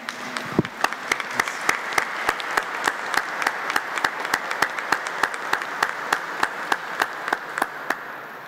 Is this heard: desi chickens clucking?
no